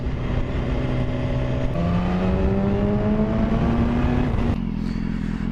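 A 2015 BMW S1000RR's inline-four engine screams toward its top end, the loud, smooth howl climbing steadily in pitch for several seconds before abruptly dropping off as the revs fall.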